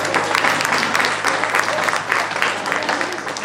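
Loud, sustained clapping from an audience at an evening devotional event honouring Sai Baba, a dense wash of claps filling the space with no gaps.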